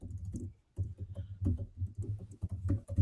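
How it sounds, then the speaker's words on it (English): Steady computer keyboard typing, close and fairly loud, in irregular bursts of keystrokes with a short pause near the start. No talking. "forgive the typing noise here"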